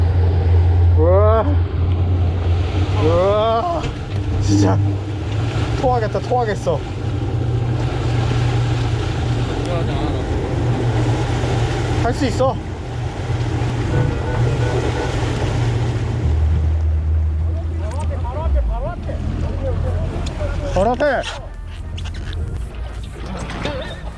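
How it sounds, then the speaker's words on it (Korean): Rough sea sloshes and pounds around a fishing boat over a constant low engine drone, with wind noise and voices talking throughout. "파도가 너무 세"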